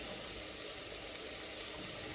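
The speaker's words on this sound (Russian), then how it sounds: "вот у меня лук жарится" Onions fry in a pan with a steady, quiet sizzling hiss that stays even and unbroken, with no voices.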